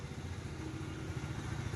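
A Honda Vario 125 motorcycle engine idles close by in a used-bike shop, a steady low mechanical rumble with light clatter, continuous and fairly loud throughout.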